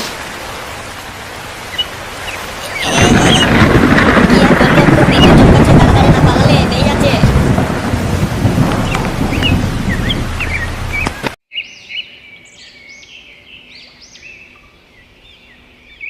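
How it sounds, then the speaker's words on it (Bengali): Cartoon rainstorm with thunder: a quiet wash at first, then a loud, dense roar of heavy rain and rumble that fades and cuts away abruptly to a quieter stretch with high chirping sounds. "এই কিছুক্ষণ আগে রোদ দিচ্ছিল আর এখন বৃষ্টি পড়ছে"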